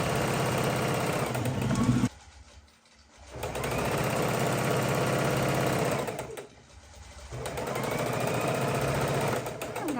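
Sewing machine stitching along the border of a baby quilt, a loud, rapid mechanical chatter that runs in three bursts, stopping briefly twice before starting up again.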